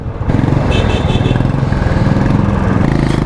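A motorcycle engine drones loud and close in second gear, a steady mid-pitched roar with constant rumble and no speech.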